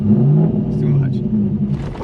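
A cammed Corvette's engine rumbles and revs unevenly as a learner feeds gas and eases out the clutch in first gear, loud and close, with people talking over it.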